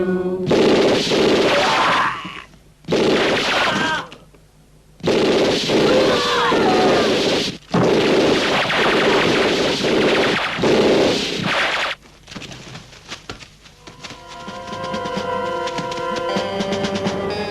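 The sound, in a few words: gunfire in a shooting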